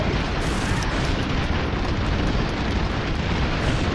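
A bomb goes off in a video game, a loud, dense rumbling blast that fills the whole moment with continuous roaring noise and no pauses.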